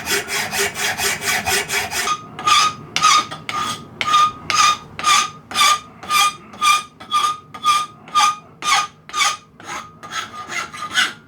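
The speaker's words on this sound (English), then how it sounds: "there's something very satisfying about using a file" A hand file scrapes across metal in steady rhythmic strokes, first rapid and short, then slower, longer rasping passes, loud and close with no talking.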